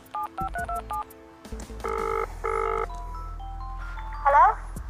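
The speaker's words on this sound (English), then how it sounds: "It's time to make the phone call." Telephone touch-tone dialing for an outgoing call, with a rapid sequence of short beeping keypad tones followed by longer paired tones and ringing-line sounds, with faint voices briefly underneath.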